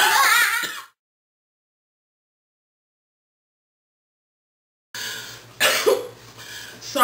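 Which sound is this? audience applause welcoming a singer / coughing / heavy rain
coughing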